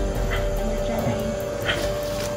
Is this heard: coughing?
no